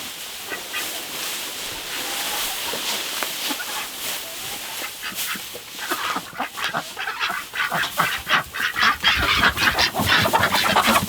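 Chickens scratching and pecking at seed-rich late-cut hay in a deep-litter coop, with soft clucks and rustling that grow busier and closer toward the end.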